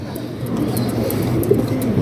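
Racing pigeons coo softly at a loft during a pigeon race in Pagbilao, Quezon, with low murmuring calls over a steady background hum.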